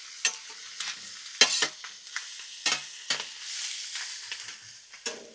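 Chicken wings fry in oil on a Blackstone griddle, a soft steady sizzle broken by a string of scraping, clattering turns of a spatula, close and fairly quiet with no voices.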